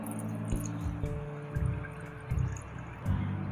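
Coconut milk is poured into a pot of rice with bay leaf for Indonesian arem-arem rice cakes, giving quiet liquid splashes and glugs that come in several short bursts over a faint background.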